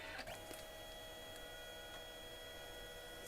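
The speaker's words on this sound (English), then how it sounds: "this is a thermal printer, so it prints in RGB" Canon Selphy CP1200 thermal photo printer running a print pass, giving a faint, steady mechanical hum with a few light clicks near the start.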